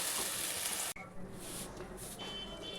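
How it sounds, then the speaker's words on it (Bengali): Marinated mutton is sautéed in a pan, a faint, close hiss and crackle that drops out abruptly for a moment before the quieter sizzling resumes. "খুব ভালো করে এটাকে বন্ধুরা কষে নেব"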